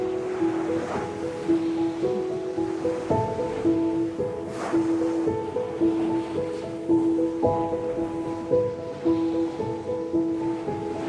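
Surf rolls and washes steadily along a seashore, a continuous loud wash under a sustained tonal music-like background that runs the whole time.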